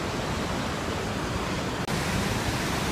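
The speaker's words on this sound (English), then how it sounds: "Waterfalls!" Sunwapta Falls pours in a continuous, dense roar of rushing water, loud and close. The wash stays steady throughout, broken only by a split-second dropout near the end.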